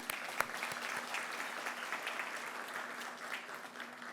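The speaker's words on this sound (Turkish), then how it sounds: "Ben bir kez daha bu vizyondan dolayı Sayın Paşahan'ı ben alkışlıyorum buradan." Faint, distant applause from an audience at a cooperation event of the İHKİB, BATİAD and TRİSAD textile associations: an even wash of many hands clapping that stays steady and soft throughout, with a few sharper claps early on.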